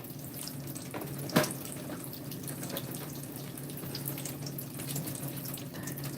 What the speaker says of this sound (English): So this is cold water.